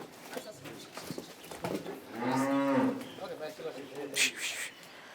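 Calves about three to five months old on a farm with cows, horses and goats moo once, long and loud, close by, while someone talks before and after and faint bird calls sound in the background.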